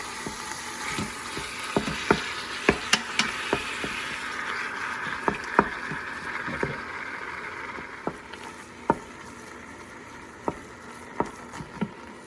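Chopped meat browning in a pan for lasagna, a steady sizzle and crackle with scattered sharp spatula taps and scrapes against the pan, close and fairly even over twelve seconds.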